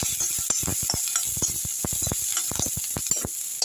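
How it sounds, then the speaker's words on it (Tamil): Ginger and garlic sautéing in a pan, a loud, steady sizzle broken by rapid scraping strokes of a stirring utensil, close up with no voices. "இதுலேயே இஞ்சி பூண்டு நல்லா வதக்கிடலாம்"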